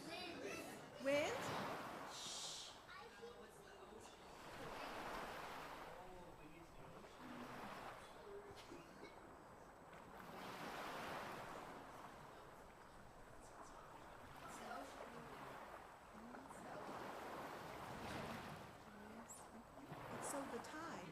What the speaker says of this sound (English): So when you hear the ocean, do you also hear the moon?